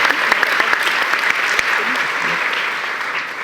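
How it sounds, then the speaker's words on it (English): Sustained audience applause after a church seminar on sex trafficking, a dense steady wash of many hands clapping at close range with a few sharper claps standing out, holding level throughout. "can we give him another round of applause?"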